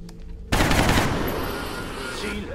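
Sudden burst of automatic gunfire in XCOM: The Long War, a rapid close, loud volley kicking in after a quiet half second and rattling on as a dense, slowly fading crackle.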